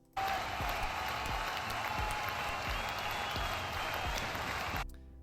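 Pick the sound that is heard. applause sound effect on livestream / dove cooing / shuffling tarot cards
applause sound effect on livestream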